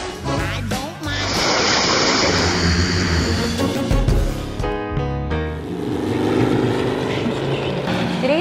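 Radio-controlled scale models of World War II airplanes fly at an air meet in Germany, their propeller engines droning loudly and steadily, swelling and shifting in pitch as they pass close by.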